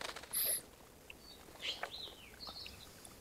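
A small bird in Life is Strange flutters and gives a few faint, high chirps after being let out through a window, sparse and quiet against a soft background hiss.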